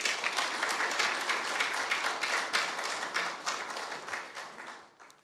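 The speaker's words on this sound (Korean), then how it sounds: "박수 부탁드립니다." An audience applauds at a National Assembly policy symposium in Korea, with dense, sustained clapping that gradually fades out near the end, heard without speech.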